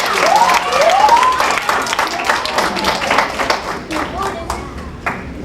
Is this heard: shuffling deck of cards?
no